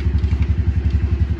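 A Honda Rubicon 520 ATV engine idles steadily close by, a low, lumpy pulsing with a regular beat and a faint mechanical clatter and no talk over it.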